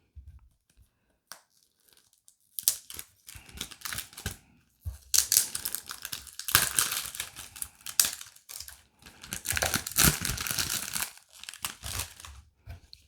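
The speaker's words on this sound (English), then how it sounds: "I'll just unwrap it here." Plastic wrapping being torn and peeled off an Initio Absolute Aphrodisiac eau de parfum box, with close crinkling, crackling and ripping in uneven bursts after a few quiet taps.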